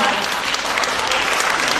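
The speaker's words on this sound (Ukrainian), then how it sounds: "Я прошу всіх оплески" Dense, loud audience applause at a concert in Mukachevo, a continuous wash of many hands clapping close by for the whole short stretch without pause.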